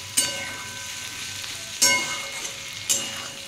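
Softened potatoes fry in a pan for bhindi aloo bhaja, a steady close sizzle broken by three sharp spatula clacks spaced about a second apart, with no voices.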